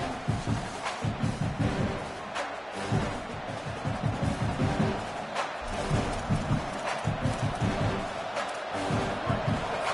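A large football stadium crowd roars and stomps on third down during an SEC game against Kentucky, a loud, sustained din with rhythmic thumping pulses throughout.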